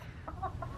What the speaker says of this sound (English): I'm gonna show the chickens first.